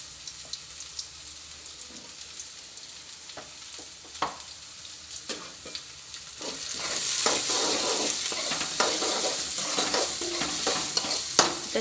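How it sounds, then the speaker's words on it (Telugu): Green chillies frying in hot oil for a potato curry, a soft crackle that swells into a louder, denser sizzle halfway through, punctuated by light stirring clicks, no talking. "అన్ని పచ్చిమిర్చి కూడా ఇప్పుడే వేసేసుకుందాం. ఆయిల్లో కొంచెం ఫ్రై అవ్వాలి కదా"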